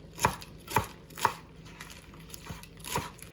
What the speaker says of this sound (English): take the spinach and slice finely